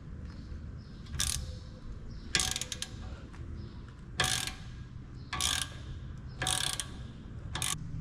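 A ratchet works loose a brake caliper bolt during a brake pad and rotor change, giving repeated short, crisp clicking bursts at a steady pace, close and fairly quiet.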